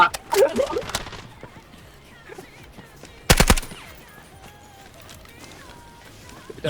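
Gunfire in the Delta Force shooter game, with a short, sharp burst of rapid shots in the middle and lighter shots near the start. A voice talks excitedly around them.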